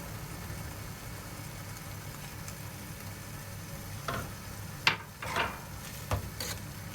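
Onions, tomato, salt and chili flakes sautéing in a pot for okra in olive oil, giving a steady low sizzle with a few sharper stirring clatters and scrapes near the end.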